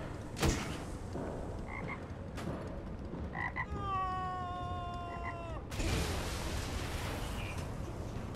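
Croaking frogs fired from a frog weapon in the video game Saints Row: Gat Outta Hell, a run of croaks and drawn-out warbling calls rising over a steady background bed of game noise, with a louder burst near the end.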